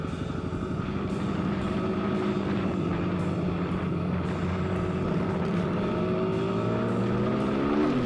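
A Honda CRF250L dual-sport motorcycle spins gravel on a gravel road, its engine droning loud and steady throughout with a continuous rumble and no talking.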